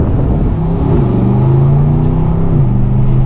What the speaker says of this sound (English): Feeling out the Aston Martin DBX downshifting.